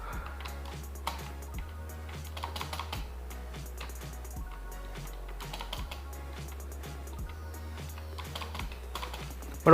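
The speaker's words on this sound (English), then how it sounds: "As you can see friends, playing with the keyboard." Typing on a wireless computer keyboard while gaming, with steady, close, rapid key clicks and taps that run throughout at moderate volume over a low background hum.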